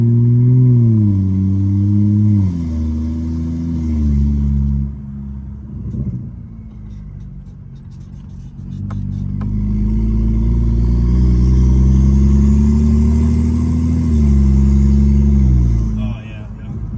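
A BMW N55 engine with a ZF8 automatic transmission revs up through several rising and falling pulls, loud and close, with brief pops between shifts, while people talk nearby.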